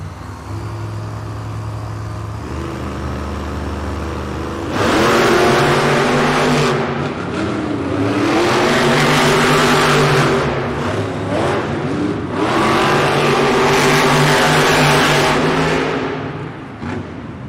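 Monster Jam monster trucks in freestyle competition roar with loud engine revving in repeated surges and lulls, an arena crowd's din blending under the engines; no voices stand out.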